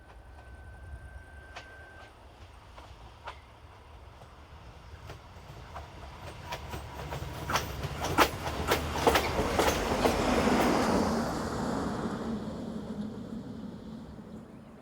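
A rebuilt Class 810 diesel railcar, unit 813113, runs the Vrútky to Zvolen service past the trackside, growing from a distant rumble to a loud rolling rush with clicking wheel beats, then fading away, with no voices.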